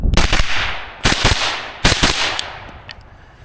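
Handgun shots fired in quick drill strings at an outdoor range on a spring day: three loud, sharp reports close by, spaced roughly a second apart, each trailing off in a brief outdoor echo, with no talking.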